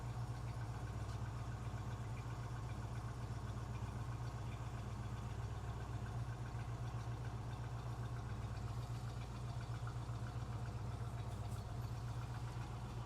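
Chevrolet El Camino with EFI engine idling while warming up, a steady, continuous low rumble with a faint knocking texture, close and unchanging throughout with no voices.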